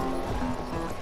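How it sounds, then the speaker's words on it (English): Horse hooves clip-clop in a Battlefield 1 match as a player rides, a steady rhythmic clatter over a continuous busy game background for about a second. "You're riding a horse."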